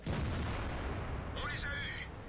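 Deep, booming shots from the AMX 50 120 tank gun in World of Tanks fill the space with sustained low rumble, while a brief sweeping whine rises over it late on.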